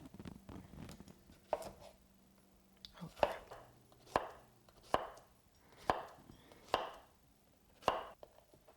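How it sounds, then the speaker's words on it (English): A knife chops on a cutting board, about eight sharp, evenly spaced thuds against quiet background, close by. "we're just going to do the other side and just go right into chopping it"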